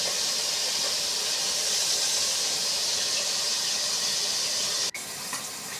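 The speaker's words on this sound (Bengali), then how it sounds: "তারপরে আমি ছোট মাছ হালকা করে ভেজে নিব।" Small fish fry lightly in a wok with a loud, even hiss and sizzle that carries on steadily, briefly dipping near the end, and no voices.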